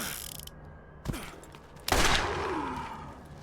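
Pistol gunfire in the Borderlands video game sounds as two distinct shots about a second apart, each followed by a ringing, sliding tail over steady game ambience, with no talk.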